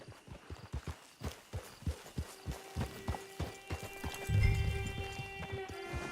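Horse hooves clip-clop at a steady walking rhythm in the Western video game Red Dead Online, close and clear, followed by a low rumble and faint musical tones toward the end.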